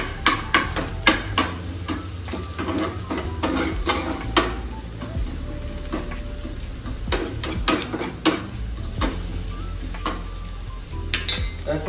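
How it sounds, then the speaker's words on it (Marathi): Onion and curry leaves sizzle in hot oil in a pan for egg bhurji, a steady close crackle broken by frequent sharp clinks and scrapes of a spoon against the pan, with no talking. "तडथड फडफड होऊ द्या कांदा आणि कढीपत्ता."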